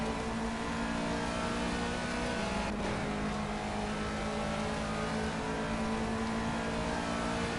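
Le Mans race car engine in Project CARS, a steady loud droning whine held throughout with a brief pass-by sweep partway through.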